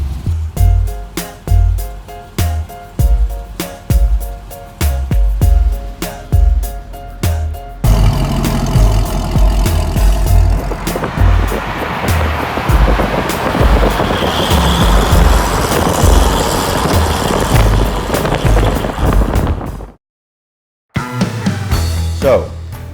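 A car engine runs loud and close, first with a string of rhythmic thumps, then a sustained broadband roar as it drives, before a brief dropout and a short return near the end.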